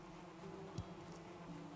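Bees buzzing in the video game Valheim, a steady low hum that holds throughout with a short bump in the middle, no voices.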